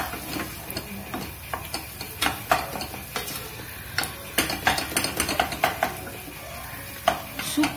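Eggs scrambled in a frying pan, with quiet sizzling under repeated scraping and stirring taps of a utensil against the pan, steady and close with no talk.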